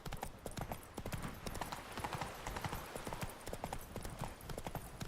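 Roach, Geralt's horse in The Witcher 3, trotting with dense, steady clip-clop hoofbeats close up, accompanied by a faint occasional snort and no talk.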